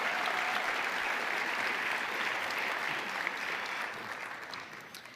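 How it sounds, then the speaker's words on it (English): Steady, dense applause from an audience at a photography award and degree ceremony, fairly distant and even throughout before easing slightly near the end. "Let's have a round of applause for those hard-working people."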